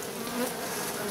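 A dense, steady buzz of many agitated honey bees, loud and close, with no voices.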